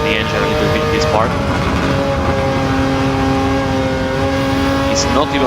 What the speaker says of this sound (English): I'll let you hear the engine a little bit in this part.